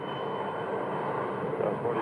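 An Embraer 135 regional jet roars steadily at an airport, a broad continuous engine rumble with a high whine, loud and sustained with no breaks.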